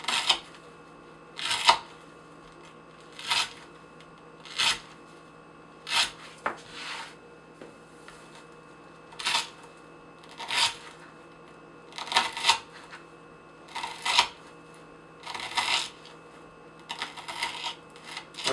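A Spyderco Stretch II knife with a ZDP-189 steel blade slices through rope in a series of crisp, rasping cuts, about a dozen evenly spaced strokes at roughly one-second intervals, close and distinct with no talk.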